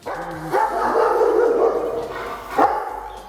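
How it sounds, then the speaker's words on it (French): A pack of German shepherds and rottweilers barks in Côte d'Ivoire, two loud close bursts of barking over a continuous background din. "Au milieu de ses 5 bergers allemands et ses 2 rottweilers, Yul Berger est le roi, le dominant."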